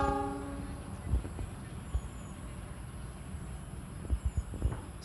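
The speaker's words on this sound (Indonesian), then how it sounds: "Yang masuk guys ini kereta api di stasiun Kutarjo" Low rumble of a train rolling into Kutoarjo station, with a horn tone at the start and heavy clunks of wheels near the end.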